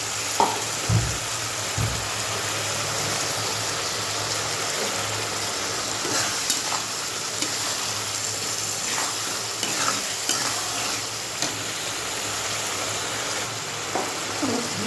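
Meat frying in a pan with tomato, coriander powder and spices, a steady sizzle with stirring scrapes and occasional clinks, close and continuous throughout.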